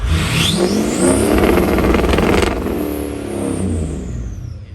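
Deleted 6.0 diesel pickup truck, studded, revving hard up and back down, with a loud rising engine roar and turbo whistle filling the air close by; no talking.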